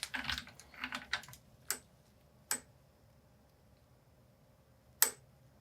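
A torque wrench with a 26mm socket tightens the fork mechanism of a 2022 FOX Float 34 Performance Elite FIT4 Step-Cast suspension fork, making a quick series of soft ratcheting clicks followed by three separate sharp clicks, close and quiet.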